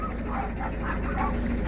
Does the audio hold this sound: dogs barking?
yes